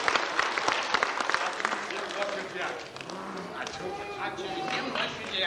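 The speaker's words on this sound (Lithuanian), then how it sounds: "Tai girdėjai, kaip ploja iš tikrųjų" An audience at a theatre performance claps in a dense burst of applause that continues steadily, with voices mixed in over the clapping.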